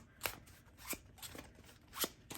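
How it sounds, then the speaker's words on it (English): Tarot cards are shuffled close by, a series of sharp papery riffles and flicks in uneven bursts, quiet and heard alone without talk. "So I'm going to go ahead and start shuffling the cards for you, Capricorn."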